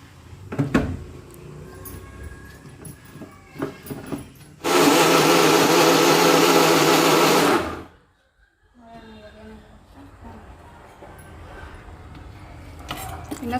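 A kitchen mixer grinder blends sambar masala paste with added water for egg sambar, a loud, steady whirring roar lasting about three seconds that starts and stops abruptly, framed by utensil clatter and quiet speech.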